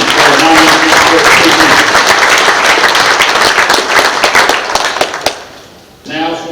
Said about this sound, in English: Let's give a big round of applause for our offensive team